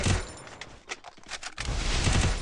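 Gunfire in the Free Fire video game: a rapid fusillade of sharp shots at the start and end with a few scattered single cracks between, fairly faint and dense, without talk.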